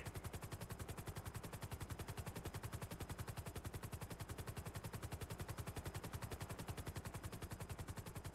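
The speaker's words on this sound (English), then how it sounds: "shots fired" Rapid automatic gunfire in a GTA roleplay game, a steady unbroken stream of fast regular shots with no pauses, loud and continuous for several seconds with no talk.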